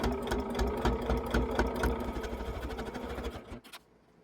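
A sewing machine stitches quilt sashing onto the back of a quilt-as-you-go row, running with a fast, rhythmic mechanical patter close by before abruptly stopping near the end.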